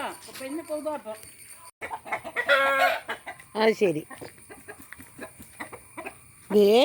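Chickens cluck and squawk repeatedly at close range, irregular bursts, with a person speaking briefly between them.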